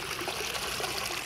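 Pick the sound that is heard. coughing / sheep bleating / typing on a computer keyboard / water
water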